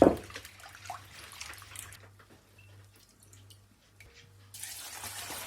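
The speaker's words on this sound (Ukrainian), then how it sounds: "Декілька разів заливаємо чистою водою, промиваємо і зливаємо." Water pours and splashes into a container of dried peas being rinsed, in two bursts, at the start and near the end, with quieter dripping and trickling between.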